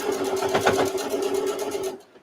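Sewing machine stitching a straight seam on a fabric microwave potato bag, a fast steady mechanical whir with rapid needle pulses, close and loud, stopping abruptly near the end.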